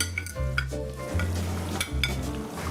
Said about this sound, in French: Ajoutez les oignons.